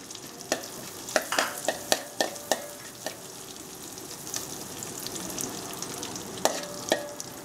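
Fennel seeds fry in melted butter in a pan: soft sizzling with scattered sharp pops and crackles, interspersed with stirring scrapes, close and fairly quiet.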